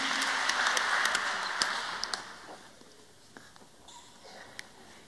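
Applause from a church congregation at a live Kikuyu service, a fading patter of hand claps with a few sharp isolated claps, fairly quiet and diminishing toward the end.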